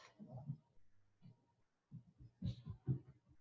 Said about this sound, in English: Allow the sound of the beating hearts to enter your senses now, like a primordial drum calling you